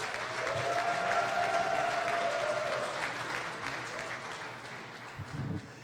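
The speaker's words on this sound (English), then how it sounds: "One more round of applause for the graduates." A hospital graduation crowd gives the graduates another round of applause, broad sustained clapping from many people that fades gradually, with a brief tone sounding over the start and a voice near the end.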